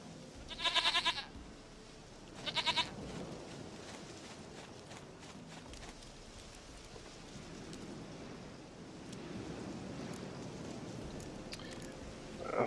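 Goat bleats in The Witcher III, two short quavering calls near the start and another brief one soon after, over a steady outdoor game ambience with soft hoof-like clopping and footsteps.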